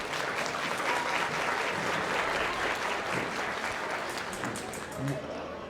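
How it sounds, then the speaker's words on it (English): A crowd at a county junior livestock show applauds novice exhibitors in the show ring, with sustained, fairly distant clapping that runs steadily throughout and faint voices beneath it. "Let's give these novice exhibitors a big round of applause."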